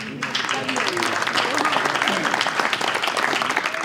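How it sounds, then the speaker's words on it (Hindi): A workshop audience breaks into loud, dense clapping that continues steadily for a few seconds, with voices faintly mixed into the crowd noise. "ताली बजाओ जोर से"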